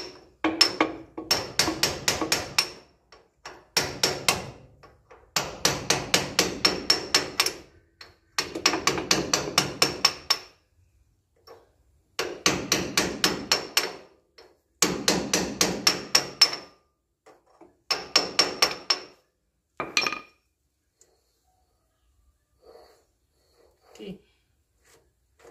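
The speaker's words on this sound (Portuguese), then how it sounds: "Agora vamos soltar aqui a porca." Repeated hammer blows strike metal while loosening a nut, in bursts of rapid close, loud impacts separated by short pauses, fading to a few faint knocks near the end.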